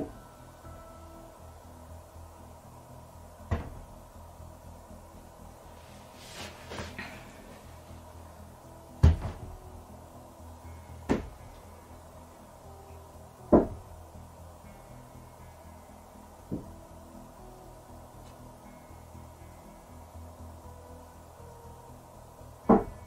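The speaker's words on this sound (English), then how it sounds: "For a brief moment, we can hear the knocks coming out from inside that" Sharp, isolated knocks sound from inside a wardrobe in an apartment, spaced irregularly a few seconds apart over a quiet, hushed background, some louder and some fainter.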